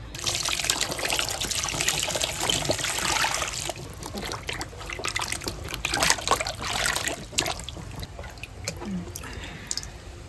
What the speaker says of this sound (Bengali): এই তরমুজটা এখন একটু ভালো করে ধুয়ে নেই।